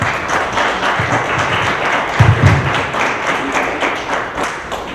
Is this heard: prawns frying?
no